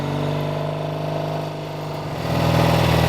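A red 1968 Triumph Bonneville vintage motorcycle engine runs steadily with a low, even drone that dips briefly, then swells louder as it pulls into the next gear, close and continuous with no talk.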